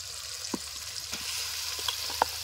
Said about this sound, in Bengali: আমরা ম্যারিনেট করা চিকেনটাকে দিয়ে দেবো কড়াইয়ের মধ্যে।